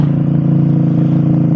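A Suzuki GSX-R150 motorcycle fitted with a cheap Brataktak aftermarket exhaust idles loud and close, its harsh, raspy burble steady and unbroken throughout.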